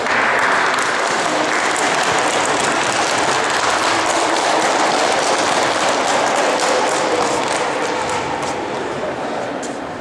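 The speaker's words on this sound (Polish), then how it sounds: "duże brawo." A crowd at an indoor youth football tournament claps steadily for the full stretch, a dense, loud wash of applause that fades only slightly at the end.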